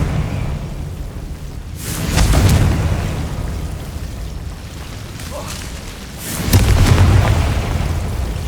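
Confringo blasting-spell explosions in Hogwarts Legacy on PS5, two heavy, booming blasts a few seconds apart, each with a deep rumbling tail, loud and close over a low game background.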